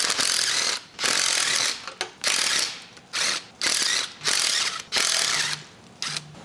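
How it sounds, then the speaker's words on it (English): A ratchet wrench loosens bolts on a neglected Willys Hurricane engine: fast clicking ratchet strokes in about eight bursts, close and loud, with short gaps between them. "I should be able to get the bolts out on the other side here."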